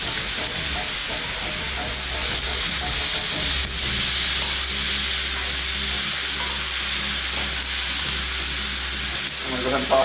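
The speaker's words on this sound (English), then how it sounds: "Now those peppers and the onions are looking pretty hot. We'll push them to one side" Peppers and onions fry loudly in a hot pan alongside kielbasa preparation, a constant close sizzle with a low burner hum and intermittent scraping stirs and clatter throughout.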